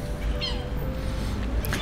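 An abandoned kitten on a street lets out a couple of faint, thin meows over a low background hum.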